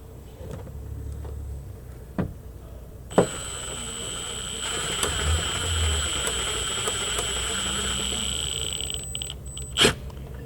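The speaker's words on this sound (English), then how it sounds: "get your impact, and yeah, run them in" An impact wrench runs bolts in while a carbon fiber front lip is fitted to a 2015+ Nissan 370Z NISMO. A sustained, close mechanical whir lasts several seconds, with a few sharp knocks before and after it.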